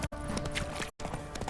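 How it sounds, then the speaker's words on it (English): A horse gallops in The Witcher 3 video game, a rapid, steady clip-clop of hooves up close with game ambience, briefly cut out twice. "Faster. Run, Roach."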